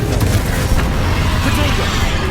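The Confringo spell goes off in Hogwarts Legacy during a dragon fight, a loud, low rumbling blast with crackling debris amid dense battle noise, and a voice speaks over it.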